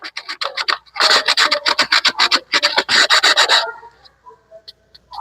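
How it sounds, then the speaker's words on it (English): Sandpaper rubs over the jagged edges of a broken piece in quick, close, rhythmic strokes, producing a gritty rasping that speeds up in the middle and then fades to a few light scrapes. "Sandpaper will help you to smooth out."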